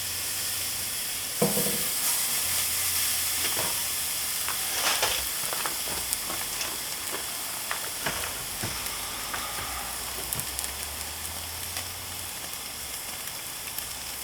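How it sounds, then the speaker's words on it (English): Ribeye steaks sizzle steadily on a grill, a loud continuous frying hiss with crackles and spits throughout, and no talking over it. "Listen to that sizzle."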